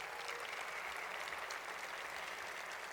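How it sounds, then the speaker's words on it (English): Dense, steady applause from an opera house audience on opening night in Detroit, sustained at an even level throughout with no voices breaking through. "please, a round of applause for them"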